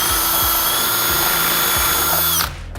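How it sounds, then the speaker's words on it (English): A power drill with a 7/64 bit bores a pilot hole, a loud close whine held steady for over two seconds before winding down abruptly. "So we're gonna drill our first hole."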